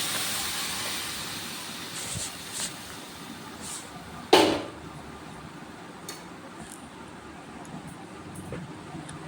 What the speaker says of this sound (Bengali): এইবার আমি সিদ্ধ করা ঘুগনিটা ঢেলে দেবো